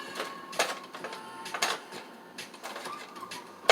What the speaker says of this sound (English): I'm going to chop them down real quick.